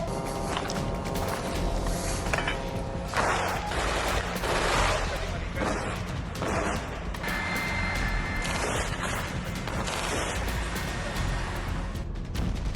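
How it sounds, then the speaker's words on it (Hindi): Dense, sustained gunfire from Israeli army shooting in Gaza, rapid bursts and volleys crackling almost continuously with shuffling and commotion mixed in and possible voices underneath. "गाजा एक बार फिर गोलियों की आवाज से कांप उठा।"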